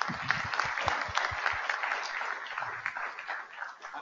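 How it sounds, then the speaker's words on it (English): A round of applause from the audience at a plant breeding symposium for the organizing group and speakers: many hands clapping steadily at moderate distance, fairly quiet and even throughout. "So let's have a round of applause again for the group and the speakers."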